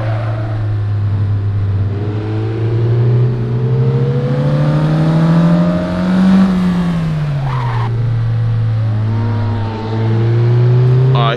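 A Mazda Miata NA in a video game race on the Usui course, its engine droning loud and steady as revs climb and dip with gear changes, tires squealing through corners the whole way.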